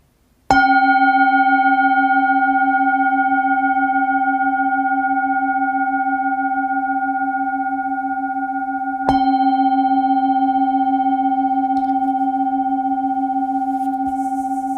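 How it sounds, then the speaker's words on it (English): A meditation bell is struck twice in a quiet room, about nine seconds apart, each strike ringing out clearly and sustaining a long, pure, slowly fading tone. "I'm going to invite the bell twice as we close our meditation."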